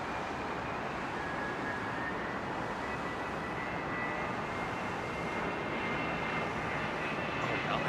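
Steady broadband roar of a fixed-wing airliner arriving on the northern runway at London Heathrow Airport in the early morning, a continuous engine rumble held at moderate distance with no voices.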